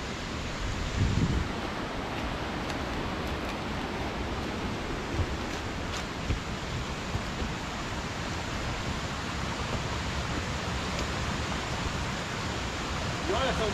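Waterfall at Cachoeira Oma Paula in Massaranduba, a constant dense roar of falling water that stays even and loud throughout with no clear breaks.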